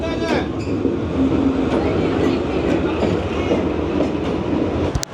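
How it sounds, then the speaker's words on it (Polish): A train rumbles across the oldest bridge in Hanoi, its loud continuous rolling clatter and wheel noise close by, with voices faintly under the din. "oglądając przejazd pociągu na najstarszym moście w Hanoi"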